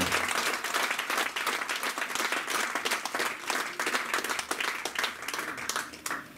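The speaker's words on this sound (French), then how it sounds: "Est-ce qu'on peut l'acclamer ce matin?" A church congregation bursts into sustained applause, many hands clapping densely and loudly at close range throughout, with some crowd voices mixed in beneath the clapping.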